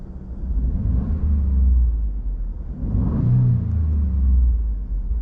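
A Ford F-150 Tremor with the 3.5 engine revs twice with full-throttle pushes, a loud, close low rumble swelling and easing in two waves with no distinct exhaust note.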